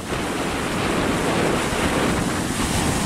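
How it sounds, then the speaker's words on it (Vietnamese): Strong wind roars across the microphone with steady crashing surf, heard from a boat heading offshore in rough open sea during a storm; a loud, continuous broadband rush with no voices. "Có thể nói là cái tiếng gió cực kỳ ồn"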